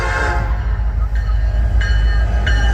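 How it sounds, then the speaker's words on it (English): Norfolk Southern freight train with three locomotives passing westbound on track 2, a loud continuous rumble and rail roar, with horn-like tonal bursts sounding repeatedly over the steady noise. "It's going to be a Norfolk Southern on track 2. 3 locomotives going westbound."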